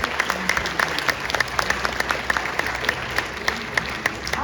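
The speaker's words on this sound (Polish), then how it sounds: "Brawa od razu, taka jest konwencja w tej nagrodzie." Moderate applause from a volunteer awards gala crowd for a nominee, with individual claps popping out distinctly over a softer wash of clapping, fairly even and sustained across the stretch.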